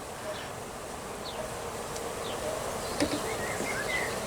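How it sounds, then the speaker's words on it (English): Honey bees hum in an opened hive on a farm, a steady close drone with individual bees zipping past now and then. "I can hear them buzzing."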